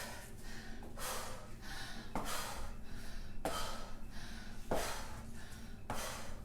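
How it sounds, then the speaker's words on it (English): Heavy, rhythmic breathing paced through a walking lunge workout, with loud broadband exhales recurring roughly every one to one and a half seconds, close to the microphone and with no talking. "And listen to my breathing."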